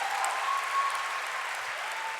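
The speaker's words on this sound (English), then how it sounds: "Can we get a round of applause just for that?" Steady applause from a graduation crowd at a North Hennepin Community College commencement, a dense even patter that holds at moderate level for the whole stretch, with no talk over it.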